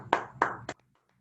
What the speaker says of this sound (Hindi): ऋषि सर के लिए एक जोरदार तालियां होनी चाहिए